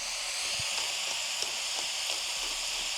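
Australian beef sizzles in a frying pan with a soft, steady hiss and a few faint stirring taps, fairly quiet and close.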